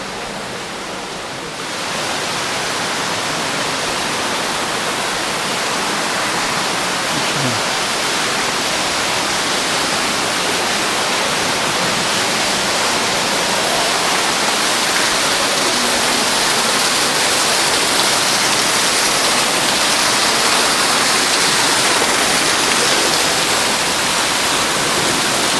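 Waterfall inside Harrison's Cave, a limestone cave in Barbados, roaring as a steady broadband rush of falling water that fills the space, loud and continuous throughout with no voices over it.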